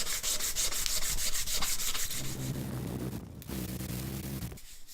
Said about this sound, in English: I'm going to use sandpaper to soften that edge down a bit.